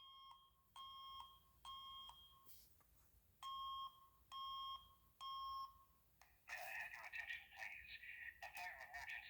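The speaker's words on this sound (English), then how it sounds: "this horn was actually making the entire beeping noise" A fire alarm horn in a system test sounds steady electronic beeps in a regular on-off pattern, about six pulses, before a burst of harsher buzzing and rattling noise takes over near the end.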